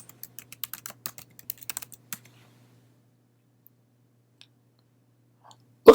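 A burst of quick, light key taps on a computer keyboard while a new folder name is typed, close and crisp for about two seconds, then near silence before a sudden louder click at the end.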